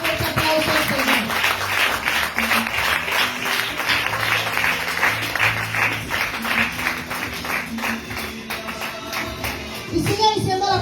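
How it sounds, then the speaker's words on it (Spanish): Congregation claps steadily at a church service for about eleven seconds, a thick continuous wash of hands with music sustained underneath throughout. "Así que dale ese fuerte aplauso al Señor."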